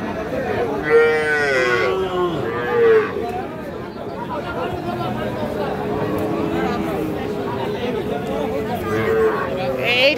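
A calf moos at a busy cattle market where small bulls and heifer calves are sold: two or three drawn-out, nearby lowing calls rise over steady crowd chatter and people talking.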